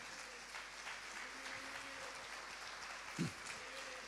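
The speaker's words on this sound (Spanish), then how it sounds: "Alguien déle un aplauso al Señor esta mañana." A church congregation claps in faint, steady applause during a morning service, heard at a distance with a single louder thump partway through.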